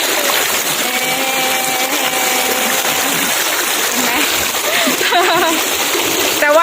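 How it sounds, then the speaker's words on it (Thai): A cold waterfall pours and splashes in a continuous loud rush close by while someone bathes in the pool, with bird or whistle-like chirps and voices drifting over the steady roar. "ได้ยินเสียงน้ำตกบ้างไหมเอ่ยก็คือแบบเสียงน้ำไหลแบบเย็นเวอร์นะคะ"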